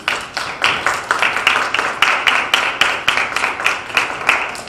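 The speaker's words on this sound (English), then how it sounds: "So a big round of applause for these beautiful ladies." Guests at a Kiwanis club officers' installation give a steady round of applause, rhythmic clapping swelling in repeated waves, close and fairly loud with no voices over it.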